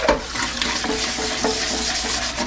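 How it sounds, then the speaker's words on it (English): A soapy OXO Good Grips kitchen cleaning brush scrubs a non-stick pan with steady, close, wet bristle scrubbing and a continuous hiss, with no talking. "I'm just gonna add a little bit of soap to this thing, and I'll show you if the scrubber brush does any good."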